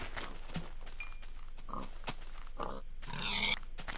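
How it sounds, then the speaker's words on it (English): Pigs grunt and oink in a video game, several short snorts and squeals scattered across a few seconds, fairly close over a low steady background. "we got some piggies. Lots of piggies, actually."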